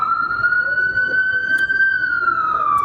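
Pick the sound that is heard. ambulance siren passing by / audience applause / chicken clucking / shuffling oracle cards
ambulance siren passing by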